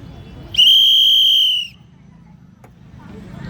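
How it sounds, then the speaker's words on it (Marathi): A single sharp whistle blast, loud and steady for about a second, signals the start of a women's race at a Shivaji Maharaj celebration, over a low murmur of crowd noise. "शिट्टी वाजल्यानंतर स्पर्धेला सुरुवात होईल।"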